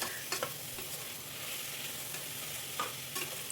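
Mixed vegetables fry in a pan for a soya chunks vegetable rice dish, a steady close sizzle with occasional scrapes and taps of a stirring spoon, no voices.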